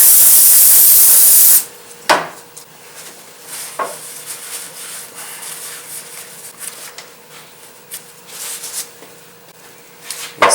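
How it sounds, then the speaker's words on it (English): Brake cleaner sprays onto the surface of an AC clutch from a 1992 to 1996 Ford F Series truck, a sharp loud hiss for over a second, then quiet, with occasional clinks and metallic taps of parts being handled. "Clean the surface with brake cleaner."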